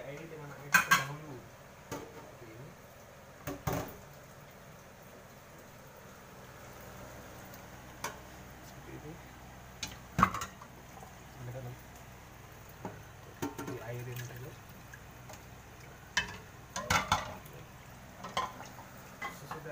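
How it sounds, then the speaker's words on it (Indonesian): Dirty plates being rinsed with water during dishwashing, with intermittent clinks and clatters of dishes and utensils knocking together over a low, steady background. "ini piring-piring kotoran yang sudah bersih dari kotoran itu diairi dengan air terdahulu"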